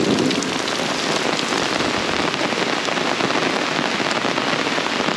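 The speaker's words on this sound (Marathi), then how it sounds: "पाऊस सुद्धा ना खडखडतोय." Heavy monsoon rain pours down in Konkan's Sangameshwar area, a dense, steady pattering and drumming that stays loud and unbroken throughout, with no voices.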